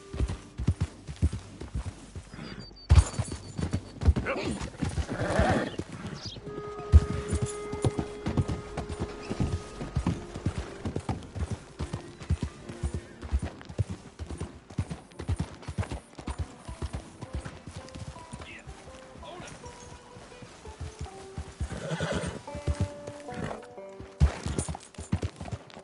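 Horse hooves clip-clop steadily in Red Dead Redemption 2, a close rhythmic galloping patter with occasional whinnies and game music and effects layered underneath.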